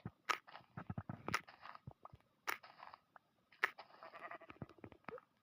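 Sheep bleating in a blocky sandbox survival game, a few short rough bleats mixed with crunchy clicking game effects, close and fairly loud.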